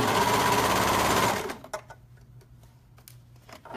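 Serger stitching a seam on joggers, a fast loud mechanical buzz for about a second and a half that then stops, leaving quieter clicks and handling noises.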